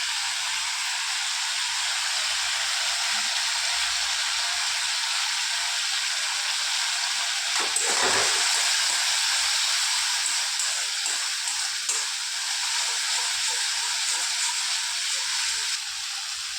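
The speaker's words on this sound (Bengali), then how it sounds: "মশলাটা ভাজা হয়ে গিয়েছে," Spice paste with tomato, salt, turmeric, Kashmiri chili powder and sugar frying in a pan, giving a steady, even sizzling hiss that runs unbroken and fairly close throughout with no talk.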